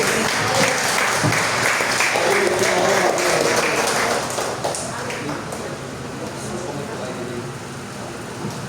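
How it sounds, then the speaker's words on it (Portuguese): A church congregation claps together during worship, rhythmic clapping spread across a large room, loud at first and easing slightly, mixed with voices and room noise throughout. "Vamos adorar o Senhor com palmas"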